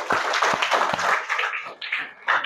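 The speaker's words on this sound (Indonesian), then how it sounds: "kasih tepuk tangan buat Istri" Short burst of clapping from a small group of students in a classroom, a few uneven claps mixed with murmured voices that quickly thins out.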